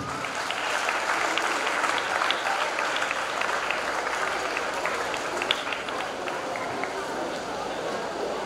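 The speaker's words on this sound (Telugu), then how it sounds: "సురేష్ స్వామి గారు అందరు ఒకసారి చప్పట్లు కొట్టండి" An audience at a Delhi defence academy function applauds in one sustained, even round. The dense clapping carries on at a steady level for several seconds with no break.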